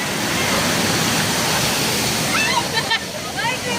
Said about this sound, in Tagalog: Andito na kami sa Tanawan Falls.